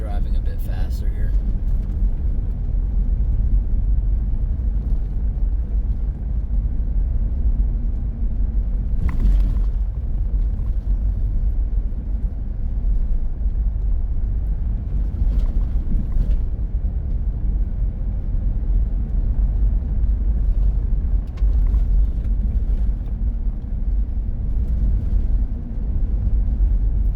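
Car driving slowly, about 30 mph, along a wilderness road, giving a steady low engine and road rumble that holds evenly throughout with no talking.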